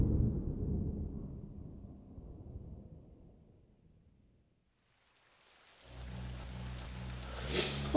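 Steady rain falling outside, a soft wash of noise that swells back after a quiet gap, with a low rumble beneath it.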